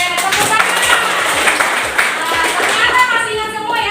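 Classroom students clap together in a physics lesson, a dense flurry of overlapping hand claps over about four seconds, with children's voices murmuring faintly underneath.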